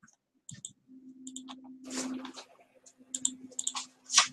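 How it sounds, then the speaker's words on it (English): Computer mouse clicked repeatedly while the shift key is held, a series of sharp, close clicks and light key taps in an irregular rhythm over a low steady hum. "you actually click shift and you click on each one"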